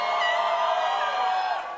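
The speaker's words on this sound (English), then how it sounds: "thank you all for your applause" Audience applause and cheering at an awards event honouring Amitabh Bachchan, a dense, steady crowd roar with whoops filling the hall, fading slightly at the end.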